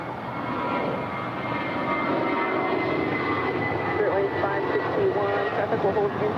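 A Spirit Airlines jet departs LAX bound for Detroit, its engines a loud, steady roar that builds slightly over the span, with a voice talking over it.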